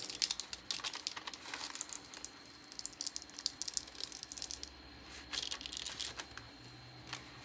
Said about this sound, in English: I'm just going to peel the transfer tape off of the rhinestones.